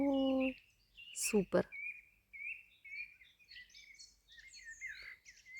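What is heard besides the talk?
birds singing on a quiet evening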